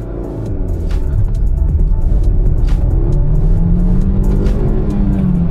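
A 12-year-old Honda City with a four-cylinder engine revs hard on a test drive, a loud, sustained rumbling drone with rising pitch heard from inside the car.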